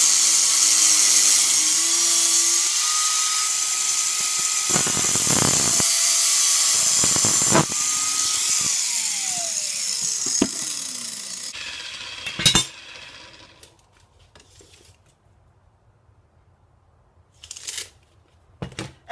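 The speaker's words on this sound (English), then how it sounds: "So I'm just gonna cut these in half, or cut the 16 inches out of these" A power tool cuts through metal bed frame braces, a loud continuous high whine with grinding bursts that falls away into quiet, followed by a few faint clanks of handled metal.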